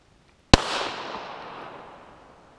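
A single sharp .40 caliber Smith & Wesson shot is fired at a Level IIIA bulletproof panel. The loud crack is followed by a long echoing decay that fades over two seconds.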